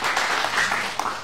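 A church congregation claps during a sermon, giving a short, moderately loud burst of scattered applause with a few distinct claps near the end.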